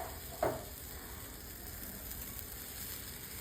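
Rava dosa batter hisses faintly on a hot pan, a soft steady sizzle with one brief louder burst near the start and no talking.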